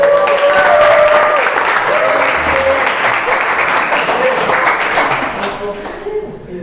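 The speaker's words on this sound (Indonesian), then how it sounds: "Berikan tepuk tangan." Students in a twelfth-grade Islamic history class clap together, a loud close burst of dense applause with a few voices and tones mixed in, tapering off near the end.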